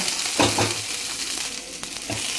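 About ten to fifteen green chillies fry in a spoonful of oil for a chutney, a close hissing sizzle with a few soft knocks from stirring, steady and moderately loud with no one speaking.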